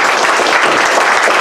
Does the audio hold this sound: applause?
yes